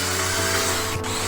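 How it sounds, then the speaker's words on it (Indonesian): A power drill reams a puncture hole in a tire, evening out the hole on the outer surface before patching, a steady close whirring grind with a brief dip near the end. "Bor dan ratakan lubang pada bagian luar."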